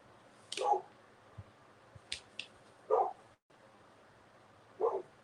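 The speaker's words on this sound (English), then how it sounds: "My dog, she's so mouthy." A dog making mouthy vocal noises: three short grumbling, bark-like bursts separated by pauses, close and quiet, with no talking.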